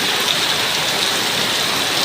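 Heavy rain pours in a steady, dense hiss that stays loud and even, with no voices.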